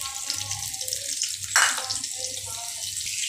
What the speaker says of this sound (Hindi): अभी अपना हमारा ऑनियन थोड़ा सा फ्राई हो गया है।